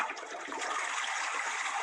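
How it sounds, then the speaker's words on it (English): A toilet flushing, a steady rushing and gurgling swirl of water that holds at an even level throughout, with no voices. "I'm going to say toilet flushing"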